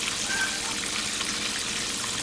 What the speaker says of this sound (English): Okay, as you can see, we're frying away here.